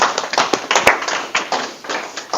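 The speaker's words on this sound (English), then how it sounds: "Give him a big round of applause" An audience at a class session on ethics and autonomous robots breaks into loud, close applause, with irregular sharp claps rising and falling over a couple of seconds and no talk.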